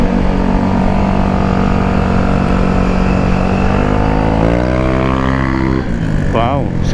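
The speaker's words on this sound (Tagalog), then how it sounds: "Ganyan din kaingay yung tambutso ko eh." Loud motorcycle exhaust at an outdoor moto expo, a steady heavy engine drone that climbs in pitch as it revs near the end, with people talking over it.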